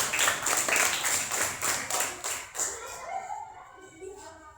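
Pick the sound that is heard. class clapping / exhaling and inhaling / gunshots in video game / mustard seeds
class clapping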